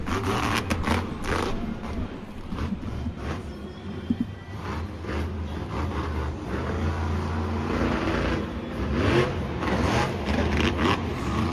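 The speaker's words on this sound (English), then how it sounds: "His truck just sounds terrible" A Monster Jam monster truck at Foxborough bogs down in mud, its engine roaring and labouring in a steady rough rumble, with scraping, clanking bursts and brief surges of revving throughout.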